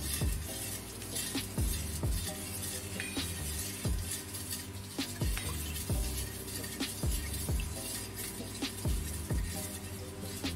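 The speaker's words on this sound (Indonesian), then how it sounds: "Kita aduk-aduk terus sampai merata." A spoon stirs liquid with baking soda in a bowl, scraping and clinking against the sides in a steady, repeating rhythm.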